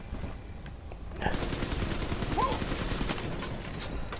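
Automatic turret gunfire in the underwater shooter BioShock 2, a steady rapid rattle of shots that swells after the first second and keeps going under game noise to the end.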